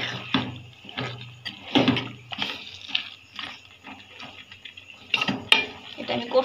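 A utensil stirs chicken and potato pieces in a metal cooking pot, giving a run of irregular scraping clinks and clatters with brief pauses between strokes, close and fairly loud.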